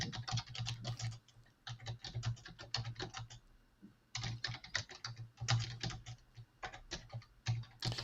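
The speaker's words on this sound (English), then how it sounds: "Let her finish her little typing here, and then we'll all join in." Steady typing on a computer keyboard, close and clear, with rapid bursts of key clicks that break off in short pauses and then start again, no voices.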